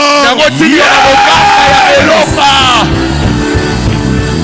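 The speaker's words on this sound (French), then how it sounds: "Je veux que tu pousses des cris de triomphe." Congregation at a prophetic prayer service shouting and whooping cries of triumph, a loud dense mass of raised voices and yells that swells and continues throughout.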